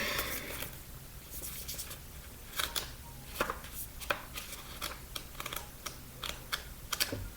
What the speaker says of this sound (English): And turning the pages here.